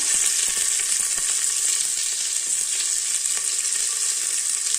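Onions sizzle steadily in hot oil with cumin, black pepper and mustard seeds for green peas biryani, a dense continuous crackling fry, close and fairly loud, without any talking.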